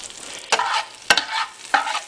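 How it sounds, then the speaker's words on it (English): Onions and garlic sizzle in butter as they sauté, with steady frying hiss and three sharp stirring scrapes of a utensil against the pan, close and with no speech. "Onions and garlic. Saute them in butter."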